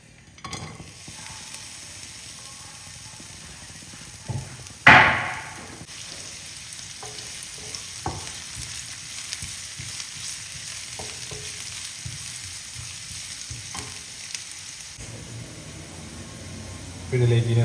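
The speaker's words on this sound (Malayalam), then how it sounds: "ഇതിലേക്ക് നമുക്ക് അരിഞ്ഞിരിക്കുന്ന സവാളയും പച്ചമുളക് ഇട്ട് കൊടുക്കാം" Chopped onion and green chilli land in a hot pan for banana flower thoran, setting off a sharp burst of sizzle. The frying then settles into a steady crackle with occasional stirring clicks, close by.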